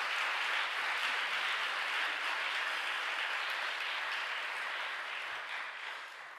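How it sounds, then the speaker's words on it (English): An audience inside a Lutheran church applauds at an MLK scholarship awards event, a dense, even wash of clapping that sustains and tapers slightly at the end. "let's give our group tonight another round of applause"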